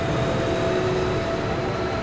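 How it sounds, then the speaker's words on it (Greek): Station ambience inside Milan's central railway station, a steady dense rumble of train and platform noise with a faint sustained tone, constant and fairly loud throughout, no voices. "Ο κεντρικός σταθμός των τρένων εδώ στο Μιλάνο"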